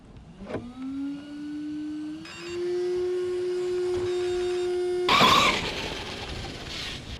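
A Losi LMT RC monster truck with a 3S setup, 15-tooth pinion and Tekin RX4 3300kV motor powers up with a thin electric whine that rises, then holds steady, before a sudden louder, rougher burst near the end.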